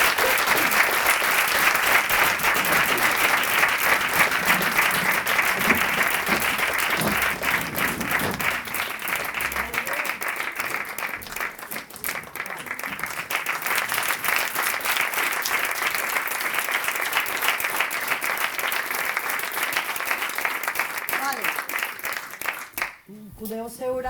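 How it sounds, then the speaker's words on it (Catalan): Audience of schoolchildren applauding after a classroom theatre play: continuous, dense clapping that stays loud for over twenty seconds, with some voices and chatter underneath before it cuts off at the end. "Una aplaudiment."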